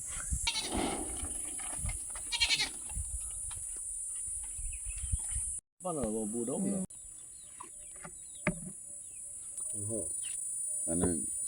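Goats bleat in several bursts, near and far, over a steady high insect-like hiss, with a few other animal calls in between.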